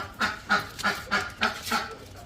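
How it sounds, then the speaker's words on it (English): A pet duck quacks in a quick series of about six loud, nasal calls spaced at a steady rhythm. They sound close and stand alone without talk. "That's my duck Tempe, by the way."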